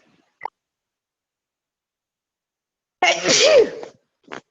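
A single sharp sneeze, close and fairly loud, set in near silence with faint small clicks before and after it.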